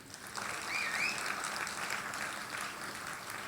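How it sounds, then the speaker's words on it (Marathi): A small audience at a film promotion event claps for the visiting actors, a soft, fairly distant patter of hands that rises quickly, holds steady, and then thins slightly, with a faint voice briefly audible underneath. "सर्वप्रथम आपण या सर्व मोठ्या कलाकारांसाठी एकदा टाळ्या वाजवूया"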